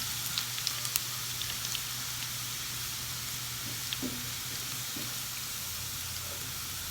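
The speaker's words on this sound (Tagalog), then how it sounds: "igisa na natin guys ang ating garlic" Garlic sizzles steadily in garlic-flavored cooking oil, a constant close hiss broken by small pops and light stirring clicks for the whole stretch.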